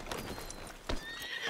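Horse in the RedM video game, with clip-clopping hooves and a brief neigh partway through, heard close and fairly loud with no talking.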